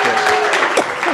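A studio audience of dog lovers bursts into brief, lively applause, a dense patter of clapping with voices mixed in underneath.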